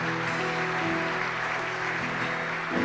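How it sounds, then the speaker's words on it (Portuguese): A church congregation applauds during Mass after the Gospel reading, steady broadband clapping filling the whole stretch under sustained organ or keyboard tones, moderately loud and fairly distant. "Vamos aplaudir a palavra de Deus"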